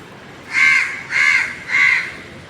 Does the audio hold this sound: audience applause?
no